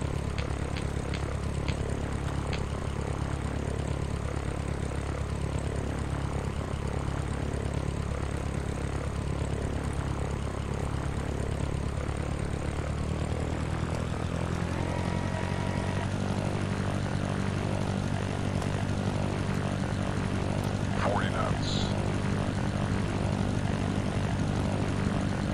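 A simulated Cessna propeller plane in Sierra Pro Pilot throttles up for takeoff, its steady droning engine buzz holding loud and continuous before the pitch and power climb partway through the roll.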